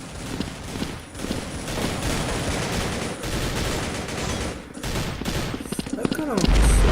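Rapid bursts of gunfire in the video game Blood Strike, zombie mode, crackle continuously, with several shots overlapping, loud and dense, while a voice talks faintly underneath.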